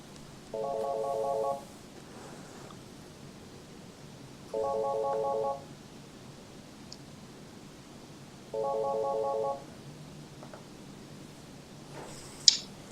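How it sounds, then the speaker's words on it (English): A conference room telephone rings in three evenly spaced electronic trilling bursts, each about a second long, separated by quiet pauses with faint room sound. "The conference room phone decided to start ringing, and I don't know why."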